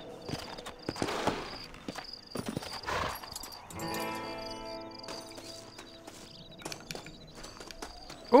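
Horse hooves clip-clop at a walk in the Western video game Red Dead Redemption, uneven soft thuds with a neigh or snort, over a quiet outdoor ambience of insects and a sustained tonal hum.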